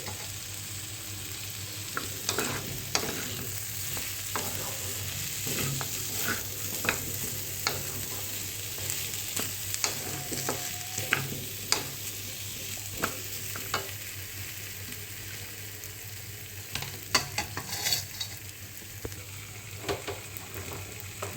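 Sago khichdi with grated ginger, beans and egg stirred and frying in a pan, a steady sizzle broken by repeated scraping clicks of the spoon, close and continuous with no talking.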